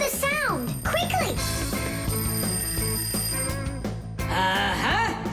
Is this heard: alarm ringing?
yes